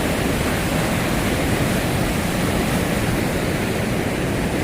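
A flooded Saga Vadi river in a village, swollen with the year's first heavy rain, roars steadily and loudly, its continuous rushing wash filling every moment without pause.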